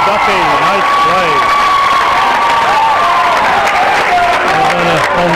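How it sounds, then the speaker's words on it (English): Home crowd at a high school boys' basketball game erupts in loud, sustained cheering and applause, with shouts and whistles layered over the roar throughout. "And then the home crowd goes crazy."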